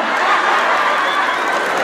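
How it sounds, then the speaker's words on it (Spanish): Crowd applauding the couple in white at a dance contest in San Juan Atzingo, steady broad clapping and murmur from a large audience, a little distant, with voices under it. "El aplauso para la pareja de blanco."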